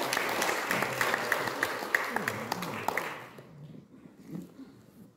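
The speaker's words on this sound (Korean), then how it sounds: "박수 한번 다시 하겠습니다" Church congregation clapping in a sanctuary, a sustained round of applause with distinct individual claps that fades out after about three seconds, leaving quieter room murmur.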